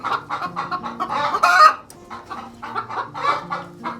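A broody hen in a screened broody cage clucks in a steady run of soft, rhythmic calls, close and clear, with one louder burst in the middle and no talking.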